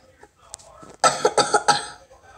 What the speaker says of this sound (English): Whoa, I'm coughing.